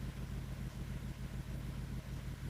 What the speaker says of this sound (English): You hear the engine turn on and the ship starts to move